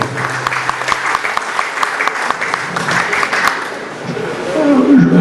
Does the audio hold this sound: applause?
yes